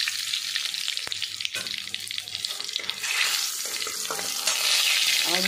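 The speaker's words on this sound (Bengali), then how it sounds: "আমার তেলটা গরম হয়ে গেছে। এর মধ্যে আমি গোটা জিরে, লবঙ্গ, দারুচিনি সব কিছু মিক্স করে এলাচ দিয়ে ভেজে নিচ্ছে।" Cumin, cloves, cinnamon, cardamom, bay leaf and asafoetida crackle and sizzle in hot oil for mutton biryani, a steady close frying hiss with scattered sharp pops that grows louder toward the end.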